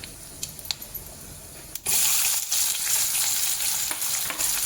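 Cumin seeds dropped into hot oil with mustard seeds for a potato stir-fry: a few light pops and crackles, then a sudden loud sizzle bursts up and holds steady, close to the pan.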